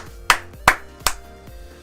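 Three sharp, loud claps in an even rhythm, followed by a quiet hum.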